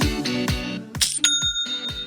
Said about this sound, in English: That's the sound of another sale, another dollar, another customer on your Shopify e-commerce store.